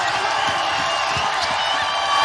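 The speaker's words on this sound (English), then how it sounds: "The home state crowd cheering on their team" Home crowd at an Oregon women's basketball game roars in a dense, loud, continuous wall of cheering and clapping, with commentary voices faintly mixed underneath.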